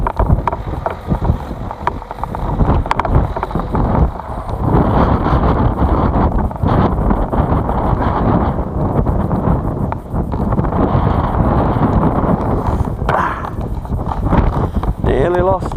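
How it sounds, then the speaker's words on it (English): Strong gusting wind buffets the microphone outdoors on a windy day while a Micro SkyHunter remote-control plane is flown, a loud continuous roaring rumble throughout, with people talking over it. "It's a bit windy though"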